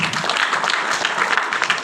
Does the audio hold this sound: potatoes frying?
no